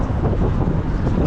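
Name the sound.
strong wind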